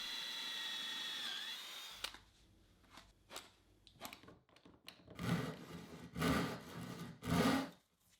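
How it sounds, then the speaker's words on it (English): Drilling into wood covered with blue tape, with scrap flooring taped behind it to stop tear-out: a short high whine, a few knocks, then three loud rising grinding bursts of the bit biting through, close up. "to try and avoid the wood from tearing out when I drilled into it"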